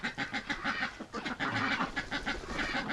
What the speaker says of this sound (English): it will be a steady stream of ducks going in and out of this tub